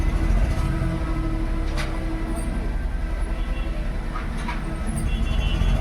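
A Nissan Datsun Redigo idles with a misfire under fault codes P1612 and P0300, giving a loud, steady, rough low rumble with an irregular uneven pulse throughout.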